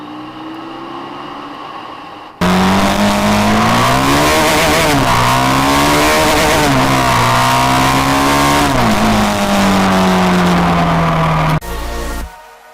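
A Benelli TNT 25 motorcycle, heard while riding, revs loud and close, its engine pitch climbing and dropping through gear shifts over steady wind-blown roar, then cutting off abruptly.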